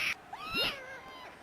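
A cartoonish cat gives one drawn-out, rising-then-falling meow in the Bad Rats video game, clear and close after a brief click, with no voices over it.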